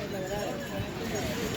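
Horses' hooves clip-clop on the mountain trail to Kedarnath, a muffled, uneven clatter under a voice speaking nearby.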